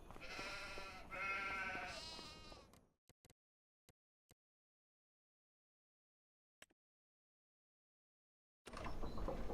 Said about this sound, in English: Oh, look at the sheep.